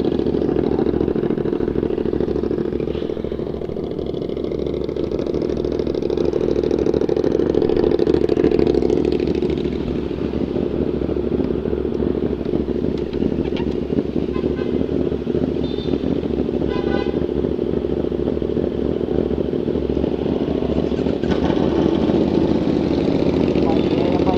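A 450SR/SS motorcycle engine idles loudly nearby with a steady putter that swells slightly midway, and a voice speaks faintly over it.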